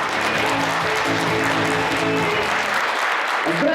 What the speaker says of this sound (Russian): Аплодисменты громче